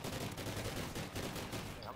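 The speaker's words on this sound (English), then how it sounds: "I'm through a wall and shooting." Rapid, dense gunfire in the video game Call of Duty: Ghosts rattles continuously as a steady stream of shots, distant-sounding and fairly faint throughout.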